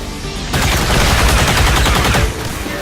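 Sustained gunfire from weapons in XCOM 2 erupts after a short quiet lead-in, a loud, continuous rattle of rapid shots that runs steadily to the end with no talking.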